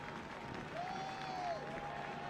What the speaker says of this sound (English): Epps gets a good round of applause, including from his coaching staff